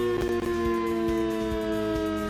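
An emergency vehicle siren from a video game with the SirenRailz mod drones with steady layered tones and faint rhythmic pulses, loud and unbroken.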